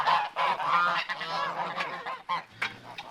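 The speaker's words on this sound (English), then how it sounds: "so getting to the Canada geese" Canada geese honk repeatedly in a busy, overlapping chorus, loud and fairly close, with brief gaps between bursts.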